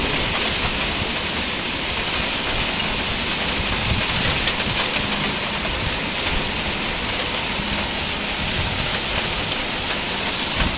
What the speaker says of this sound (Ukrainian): Це дощик літить